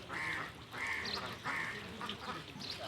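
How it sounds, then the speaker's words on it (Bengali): Ducks quack repeatedly beside a seasonal rain-filled canal, loud and close, in a run of several nasal calls with short gaps between them. "সব হাঁসেরা ভিড় জমায় এখানে,"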